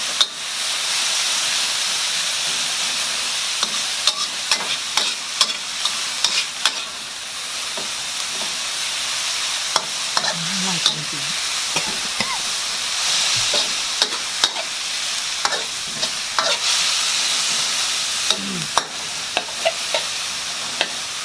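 Papaya stir-fried with egg and minced pork sizzles and hisses steadily in a hot pan, with frequent scraping stirs and clacks of a spatula close up, and no talking.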